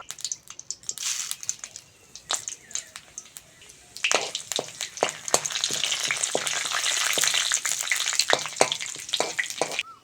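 Dried red chillies, bay leaf and whole cumin crackle in hot mustard oil, first in sparse sharp pops, then a dense, steady sizzle from about four seconds on, with scattered louder spits close by.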